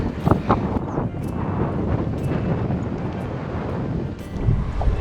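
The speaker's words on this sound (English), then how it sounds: "also really windy" Steady, blustery wind buffets the microphone with a low rumbling roar throughout, with no one speaking, while cycling in the Austrian Alps.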